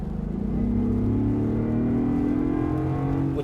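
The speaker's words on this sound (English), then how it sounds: "the paddle shift's good because you can leave it in a lower gear and rev all the way through" A Land Rover Defender V8 Carpathian Edition with paddle shift and an eight-speed gearbox revs hard in a lower gear, its engine note climbing smoothly and loudly, heard from inside the cabin with no talk.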